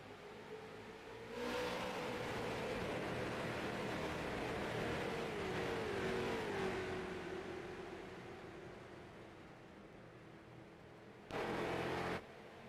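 Stock race cars accelerating back to green at Richmond, a sustained engine roar that rises as the pack passes and fades, with a brief burst of noise near the end.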